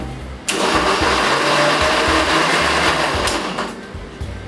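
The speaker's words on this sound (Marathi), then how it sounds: "हे सगळं मिश्रण आता नीट ग्राइंड करून घ्या" A blender grinds banana, honey, yogurt and ice cubes into a smoothie: the motor kicks in abruptly, whirs loudly and steadily for about three seconds, then winds down, with small bumps and rattles near the end.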